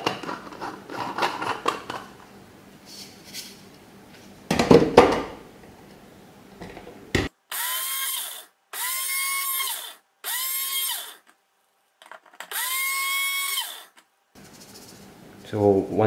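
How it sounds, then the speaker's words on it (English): A blade grinder with a flat blade grinds black sesame seeds and white sugar in four loud, whirring bursts of a few seconds each, separated by short pauses, after some softer kitchen clatter. "And we will grind using the flat blade."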